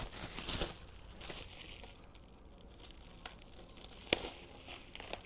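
Plastic packaging being peeled and crinkled off a new Merida Reacto 4000 race bicycle in Bahrain team colours, soft rustles and crackles close by with a few sharper tearing snaps.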